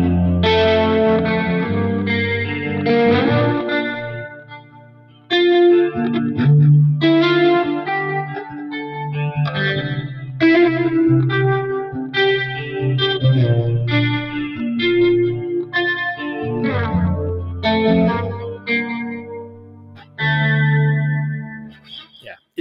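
Electric guitar played through a BOSS Katana Gen3 amp on its DC-30 chorus setting: loud, shimmering strummed chords and picked phrases with a wide, swirling chorus, continuous for over twenty seconds with brief pauses between phrases.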